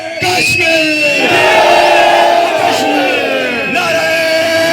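Crowd at a Kashmir rights conference in Chakswari, loud massed voices shouting and chanting slogans together, sustained and close throughout with rising and falling yells.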